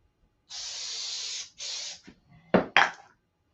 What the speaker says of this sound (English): A little bit of CA, some activator.